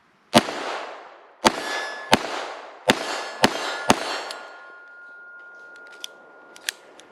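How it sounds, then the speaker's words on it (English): Colt Official Police revolver from 1963 firing 158 grain solid lead rounds: six sharp, loud shots spaced under a second apart, each with a ringing tail, followed by a few faint metallic clicks. "This is the Colt Official Police 1963, and we are shooting a 158 grain solid lead round"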